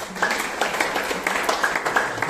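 Applause and clapping from a gathered audience at an art exhibition opening, honouring the visual artist; steady, moderately loud clapping fills the whole short stretch with a few louder claps standing out.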